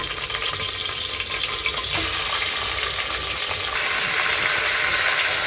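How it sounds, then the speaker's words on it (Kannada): Chicken sizzles loudly in hot oil, a dense, constant crackling hiss close by with a brief clatter partway through. "ಇವಾಗ ತೊಳೆದು ಇಟ್ಕೊಂಡಿರೋಂಥ ಚಿಕನ್ ಸೇರಿಸ್ಕೊತಾ ಇದ್ದೀನಿ."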